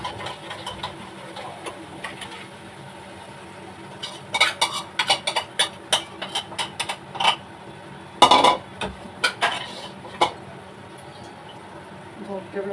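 Mutton curry masala stirred in a pot with a spoon, scattered clinks and scrapes against the metal growing busier midway, over a steady low background hum.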